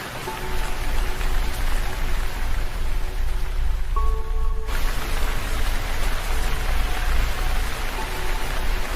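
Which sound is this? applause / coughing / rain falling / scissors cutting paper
rain falling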